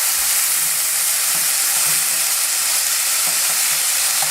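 Fish fillets frying in oil in a non-stick pan, a loud, steady, close sizzle with dense crackling that fills the whole moment without pause.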